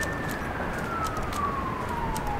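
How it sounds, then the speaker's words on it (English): Distant siren wailing in a slow falling tone over steady outdoor background noise, faint and continuous with no talk. "As I said that, some sirens went off."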